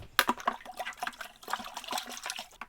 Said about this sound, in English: So this is me washing my spoon.